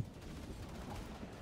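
A cannon fires in the zombie shooter Killing Floor 2. The gunfire is a dense, continuous rattle of blasts, heard faint and distant.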